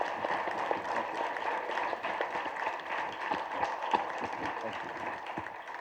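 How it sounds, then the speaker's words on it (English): Seminar audience applause for a guest, a steady patter of many hands clapping at moderate distance, with speech mixed in over it. "another round of applause for Tony Buzan"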